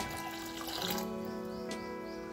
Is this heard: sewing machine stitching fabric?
no